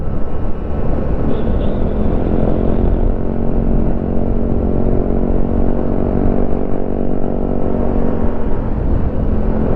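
Loud motorcycle engine from the game Ride 3, a close, sustained roaring drone that holds steady throughout as the bike runs along the road.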